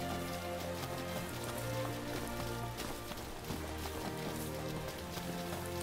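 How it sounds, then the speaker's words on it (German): Steady rain falls across an outdoor scene in Final Fantasy XV, a constant dense patter layered with game ambience and music, with no voices over it. "es regnet gerade"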